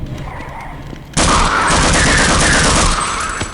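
Half-Life gunfire starts abruptly after a quiet moment and becomes a loud, sustained burst of rapid shots that fills the space before easing off near the end.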